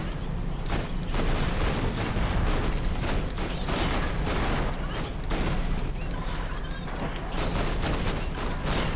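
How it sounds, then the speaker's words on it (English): Dense, rapid gunfire from a Borderlands firefight, with repeated bursts of shots and booming impacts running continuously and loud, almost without a pause. "that's why I prefer burst fire instead of just holding the trigger down."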